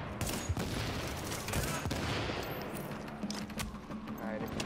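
Rapid, continuous gunfire hammering a wall at close range in a first-person shooter, a dense, steady rattle of shots with a few sharper cracks.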